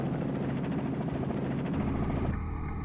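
A Triumph Daytona 675 motorcycle engine drones steadily up close on a handling course, a dense rumbling buzz throughout, dropping to a lower steadier tone near the end.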